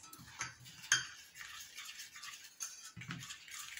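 Ground coffee and other natural hair-dye ingredients being stirred, producing scattered light scraping and clinking strokes, one sharper knock, close and fairly quiet.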